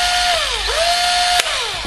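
An electric drill whirs with a steady motor whine that dips and recovers in pitch as its speed changes, loud and close, with one sharp click near the end; the drill runs on a homemade reverse-polarity protection circuit.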